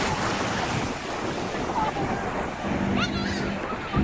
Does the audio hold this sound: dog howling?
no